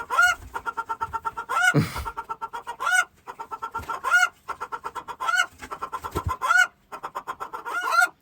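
Domestic chickens cluck and squawk in repeated bursts, fairly close, while the flock is handled and treated for fleas, mites and feather lice; a louder squawk breaks in near the start, with no talking.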